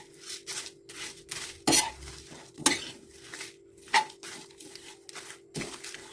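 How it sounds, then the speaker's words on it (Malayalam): A fennel and cashew spice mix is dry-roasted in a pan over low heat, with a spoon scraping and clinking against the metal in irregular strokes, close by and moderately loud. "അപ്പൊ ചെറിയ തീയിൽ വെച്ച് ഇത് നന്നായിട്ടൊന്ന് വറുത്തെടുക്കുന്നുണ്ട്"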